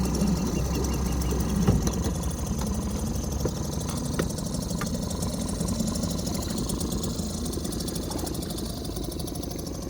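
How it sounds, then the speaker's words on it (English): A small outboard motor mounted on an Ascend 128T kayak runs steadily at moderate volume, giving a continuous mechanical hum with faint ticking and knocking over water, and no voices are heard. "It's not as loud as I thought it was going to be. It's not the most quiet motor ever, but it's certainly not the loudest."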